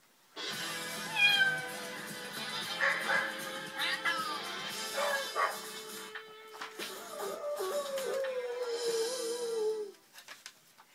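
A domestic cat meows repeatedly over about ten seconds, a series of close, drawn-out plaintive cries with short pauses, ending in a long falling wail.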